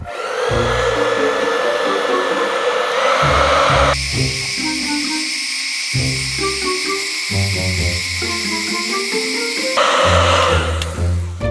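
A heat gun blows steadily on a Mini Cooper S R53 part to warm and expand it, a loud continuous hot-air roar with a hiss that shifts in pitch and level as the airflow changes.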